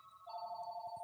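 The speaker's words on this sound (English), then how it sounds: "There go that house phone again." A house phone rings with a steady electronic tone, a single sustained ring of moderate loudness heard from across a room, with faint background noise and no talk during the ring.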